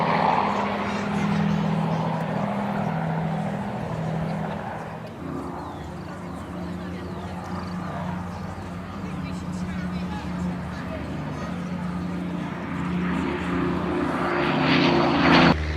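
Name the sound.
turboprop airliner with Rolls-Royce Dart engines flying at airshow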